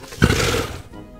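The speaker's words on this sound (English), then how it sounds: "Can you tell Miss Kaye which animal it makes a roaring sound like this?" A lion roars in a recorded animal sound for a children's read-aloud, a single loud, rough roar starting early and fading out toward the end, with no voices.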